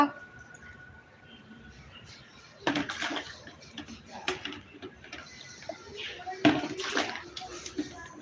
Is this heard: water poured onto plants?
yes